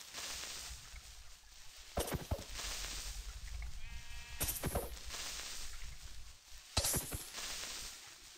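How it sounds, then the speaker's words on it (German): A sheep in the Minecraft video game bleats once in a short wavering cry amid quiet game ambience and a few sharp clicks, with no talk over it. "Warum bist du kein weißes Schaf?"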